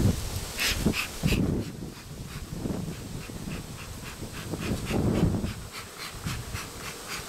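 Honey bees hum around a hive entrance, a soft continuous buzz with individual insects swelling louder as they pass close, quiet and without talk.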